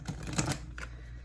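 Tarot cards shuffled by hand in a quick riffling burst of papery clatter lasting about half a second, then a brief softer flick, close and fairly loud with no talk.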